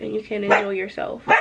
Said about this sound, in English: that's my dog. She just hears any little tiny noise and she just thinks she has to bark